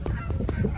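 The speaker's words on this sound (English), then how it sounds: "there's some Canadian geese that just tried to attack me" Canada geese honk near the water close by, a quick burst of several loud, rapid nasal calls.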